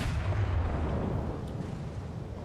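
Heavy naval gunfire from an enemy New Mexico battleship in the World of Warships game: a deep, booming salvo that rolls and fades into a long low rumble, fairly distant, with no talking.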